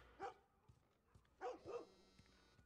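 A dog barks in The Last of Us, three short muffled woofs with the last two close together, heard at moderate distance over quiet game ambience.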